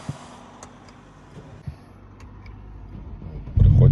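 At a driving school, a car's engine cranks and catches near the end, preceded by quiet interior knocks and a low background hum.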